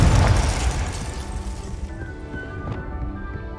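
A Confringo fire spell bursts in Hogwarts Legacy, a loud booming explosion at the start that rumbles and decays into a fading crackle over a few seconds.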